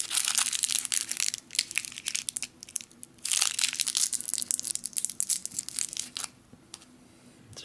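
Crinkling and tearing of a plastic packet of smashed-up chewing gum from a 2004 cold weather MRE, loud and close with dense crackling bursts, brief pauses, then a quieter tail.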